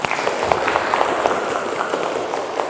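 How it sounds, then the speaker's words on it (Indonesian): Students in a classroom clap after a group presentation during a teaching practice session, a short burst of scattered, fairly close applause with distinct hand claps. "Ya, tepuk tangan ya."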